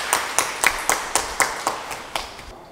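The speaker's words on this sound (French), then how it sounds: "qui mérite nos applaudissements" A small audience at a training event in a town hall claps sparsely: about ten distinct, evenly spaced hand claps ring out close by, fading toward the end.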